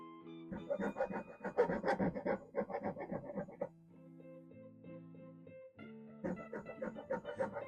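A file rasps across the pallet wood of a guitar neck in quick, rhythmic back-and-forth strokes, close and fairly faint, in short bursts with brief pauses between them.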